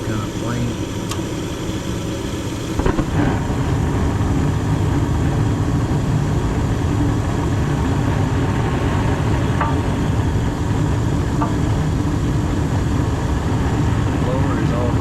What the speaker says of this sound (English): Blower is already running